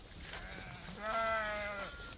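A single sheep bleats clearly in the middle of the clip, a wavering cry lasting under a second against quiet outdoor background, in a flock of ewes with lambs.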